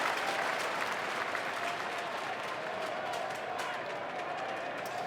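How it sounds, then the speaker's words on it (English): A cricket crowd at a Big Bash League final between Perth Scorchers and Sydney Sixers claps a dot ball, a steady, distant wash of applause from a large stadium audience lasting several seconds. "So they clapped the dot ball"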